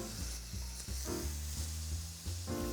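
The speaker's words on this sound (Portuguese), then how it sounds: "Vou colocar um pouco de azeite. Um pouquinho de manteiga." Olive oil and butter sizzle loudly in a hot pan, a steady crackling hiss with a few stirring scrapes, close and continuous with no talk.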